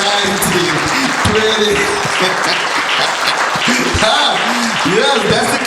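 An audience at a book launch for Success By Association applauds steadily throughout, dense sustained clapping with voices talking and counting over it.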